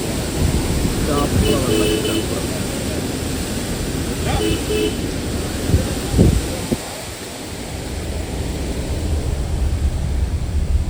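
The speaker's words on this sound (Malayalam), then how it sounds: "അപ്പോൾ ഇതാണ് ചാപ്ര വെള്ളച്ചാട്ടം" Monsoon-season Chapra waterfall near Athirappilly, a steady broadband roar of falling water filling the whole stretch, with a few brief knocks and a short dip midway.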